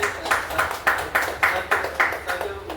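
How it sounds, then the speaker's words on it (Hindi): Audience at a business seminar clapping for a speaker in a slow, synchronized rhythm, roughly eight strong claps evenly spaced, moderately loud and close, with a voice faintly audible underneath. "हम चाहते हैं अलमोड़ सर के लिए तालियाँ हो"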